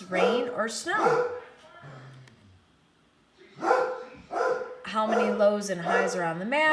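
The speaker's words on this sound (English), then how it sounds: "Sorry for my dog barking." A dog barks in the background while a person talks over it, with the barks mixed into and masked by the speech.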